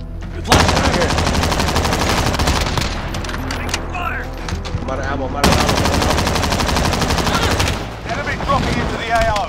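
Loud, sustained automatic gunfire in the video game Call of Duty on Rebirth Island, long bursts of rapid shots with a brief pause between them and faint voices underneath.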